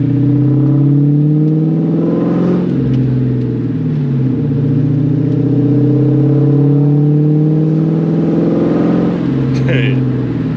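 New Edge Ford Mustang GT V8 with a catless X-pipe exhaust revving loudly and steadily up close, with rising and falling engine tones in two swells, someone speaking over it.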